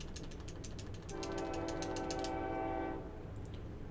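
A video game train horn sounds, a long harmonic blast lasting about two seconds, over rhythmic clacking and steady background game ambience.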